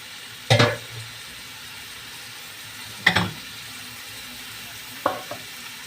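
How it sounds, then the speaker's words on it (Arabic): Onions go into a pan of hot oil while a Nile tilapia dish is being cooked, giving three short, sharp bursts of sizzling and stirring spaced a couple of seconds apart over a quiet background. "كده بننزل بالبصل"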